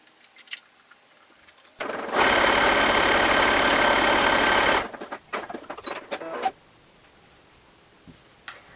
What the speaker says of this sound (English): You're going to stitch with a stretch stitch right across the back edge like that.